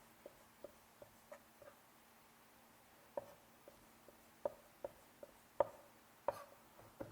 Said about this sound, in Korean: 고기 다져주시고요